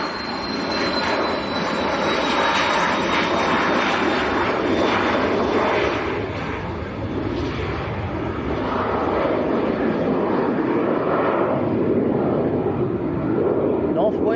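A small Embraer Phenom business jet spools up and begins its takeoff roll at Manchester Airport, a steady loud jet roar with a rising whine that holds throughout, while a voice talks over it.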